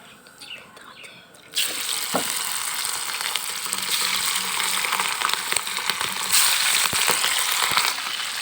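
Chicken liver drops into hot oil: after a quieter opening, a loud burst of spattering sizzle starts and keeps crackling steadily, close, with a few clinks of a spoon and no clear talking.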